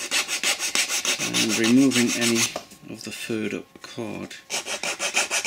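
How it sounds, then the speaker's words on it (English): A hand file rasps along the edges of a model part to flatten them and clear away furred-up material, with repeated back-and-forth strokes heard close up while someone speaks briefly. "I'm just filing off all these edges now,"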